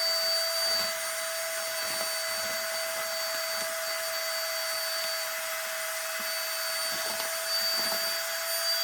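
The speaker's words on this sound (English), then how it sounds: "And then it's going to start sucking out the air." A wireless pump hums steadily close by as it draws air out of a vacuum storage bag packed with pants, a constant motor drone with a faint high whine and no talking.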